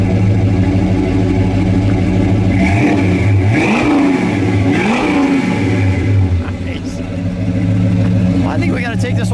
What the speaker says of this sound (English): Go ahead, Finley, give it a rev.